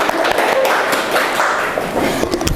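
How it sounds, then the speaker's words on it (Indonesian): Classroom applause from seated students right after a lecturer's first-session introduction, a steady dense patter of many hands lasting a couple of seconds, fairly close and loud with no talking over it. "tepuk tangan dong"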